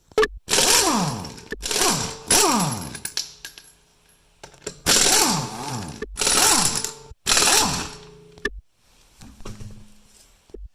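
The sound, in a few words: impact gun with 21 mm socket removing Toyota Camry wheel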